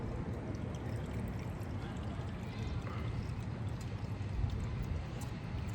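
Engine oil poured into a Ducati SuperSport 950s motorcycle gives a steady, close gurgling trickle that runs without a break throughout.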